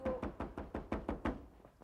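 Someone knocks on a door in a police radio drama, about nine firm, evenly spaced raps in quick succession, close and clear with no voices.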